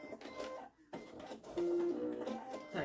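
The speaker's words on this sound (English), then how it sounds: "And then finish it off, little lock stitch." Sewing machine running in short bursts to finish a seam on a fabric baby toy with a lock stitch, a close mechanical whirring with brief pauses, moderately quiet.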